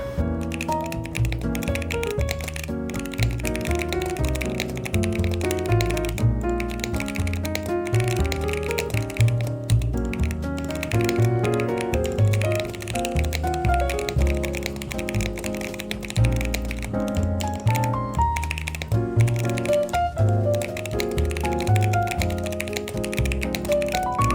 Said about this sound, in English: one of the most important things why people choose to buy custom keyboard is the sound of it